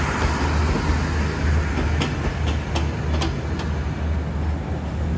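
Thai southern line passenger train with extra cars added passing at night, a steady loud rumble of wheels on rail with a few sharp clacks in the middle, heard close by.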